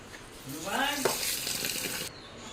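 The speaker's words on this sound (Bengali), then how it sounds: "এখন মুগ ডালটা ভালো করে ভেজে নিই" Mung dal sizzles in a hot pan while being fried, a steady crackling hiss with a stirring scrape partway through and a voice speaking briefly over it, the sizzle cutting off near the end.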